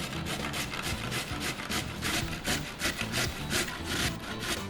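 A carrot rubbed over a grater for a Lebanese coleslaw, close rhythmic rasping strokes at a quick, even pace, repeating for several seconds with no talking.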